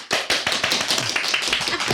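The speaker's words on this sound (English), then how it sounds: "oh gosh, there's a round of applause" A round of applause breaks out at the HOPE event, a dense crowd of hands clapping close and loud for about two seconds.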